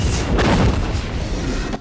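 A military base in an action film blows up, a loud, close rumbling blast with a sharp onset that rolls on as a dense roar, ending in a sudden cutoff.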